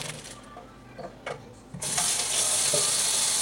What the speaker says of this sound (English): And then pour out the water, as much as water I can get out.